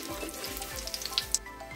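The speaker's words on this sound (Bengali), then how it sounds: "পাঁচফোড়নটার গন্ধ বের হওয়া পর্যন্ত অপেক্ষা করব। একটু নেড়ে চেড়ে দিব।" Panch phoron spices sizzle in hot oil with a steady crackling hiss, while a utensil scrapes the pan in a slow regular rhythm of about five strokes, close and fairly quiet.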